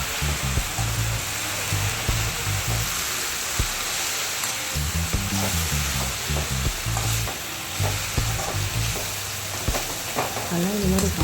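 Spinach sautéing in a pan gives a continuous close sizzle, with recurring stirring scrapes and clatters of a utensil against the pan throughout.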